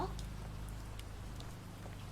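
Red rain falls steadily in the horror video game Hibernation, a soft continuous hiss with faint scattered drop ticks that stays quiet and even throughout.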